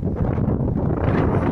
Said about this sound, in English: I don't even know whether you can hear me because of the wind.